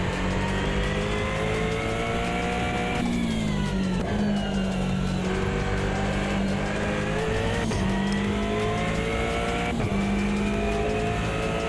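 Aston Martin GTE race car in the Automobilista 2 sim racing game, its engine droning loud and steady throughout with gear shifts and revs rising and falling, plus faint tire squeal on cold track conditions.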